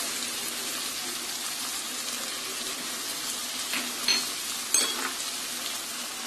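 Prawns, chopped carrots and corn fry in a pan for fried rice, giving a steady close sizzle throughout with a few brief utensil clinks and scrapes near the end.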